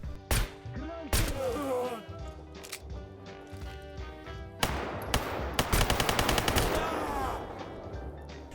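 Suppressed SVU rifle fire in the shooter game STALKER GAMMA: a few sharp isolated cracks early on, then a rapid burst of repeated shots in quick succession, loud and close, set against low ambient noise.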